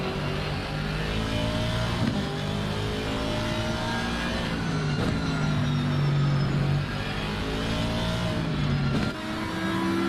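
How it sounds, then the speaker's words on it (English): GT3 race cars at Zandvoort in the racing game Assetto Corsa Competizione, including a Ferrari and an Audi: steady engine drone with rising and falling pitch as the cars accelerate and shift, plus brief tire noise, heard alone. "we were having a battle between the Ferrari of Dahlgren and the Audi of Badowski"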